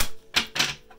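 A deck of tarot cards is shuffled close by, producing a few quick papery riffles and slaps in short bursts, with no talking.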